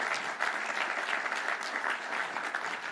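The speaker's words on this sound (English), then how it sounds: "go ahead, that's a clap moment." Crowd applause at an outdoor public announcement of a quantum computing park in Cook County, Chicago, a steady, fairly close wash of many hands clapping without a break.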